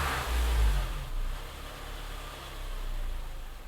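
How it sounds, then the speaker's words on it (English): A Honda Element engine with a low, fluctuating idle runs steadily, a low rumble that swells briefly at the start and then settles into an even hum, close by with no voices. "now I'm going to let it idle"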